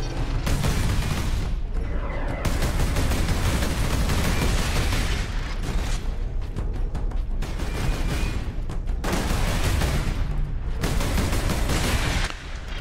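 Turret gunfire in the video game Space Marine 2, loud dense bursts of rapid shots and booms filling nearly the whole stretch, with brief lulls between volleys.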